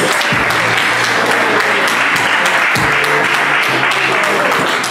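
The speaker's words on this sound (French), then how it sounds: "on peut encore l'applaudir" Wedding guests at a Franco-Guinean wedding reception in Amiens applauding a singer, a loud, dense burst of clapping filling the room with a few cheers on top.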